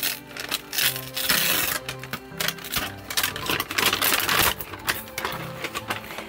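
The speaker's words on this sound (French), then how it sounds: "le son c'est horrible, on entend le papier" Paper and cardboard packaging rustles and crinkles close by in irregular crackling bursts with sharp taps and scrapes, loud and continuous, and no one speaks.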